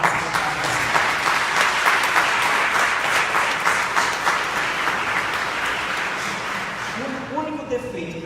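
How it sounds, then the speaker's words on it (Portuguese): An audience gives a steady, full round of applause at a formal council ceremony launching the 2019 Fraternity Campaign, dense and sustained throughout before tapering near the end with a few voices emerging. "Uma salva de palmas para você."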